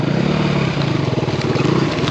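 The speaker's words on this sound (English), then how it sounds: "we're just going for a dirt bike ride in the woods" A Kawasaki KLX140RF dirt bike rides through the woods, its small engine droning loud and close with a continuous buzzing, wavering tone.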